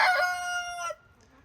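A young rooster gives a single short crow, loud and near, that breaks off abruptly into quiet.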